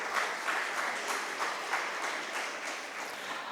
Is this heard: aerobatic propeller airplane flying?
no